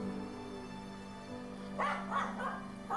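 A small corgi in the Changeling Tale video game gives a few quick, faint barks near the end over a steady background of game music.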